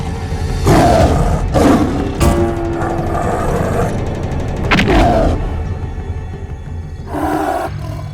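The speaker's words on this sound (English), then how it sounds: "A huge tiger pounced on Bhima" A huge tiger pounces with loud, heavy roars and snarls, punctuated by thuds and booming hits, close and intense over several seconds, with no talk.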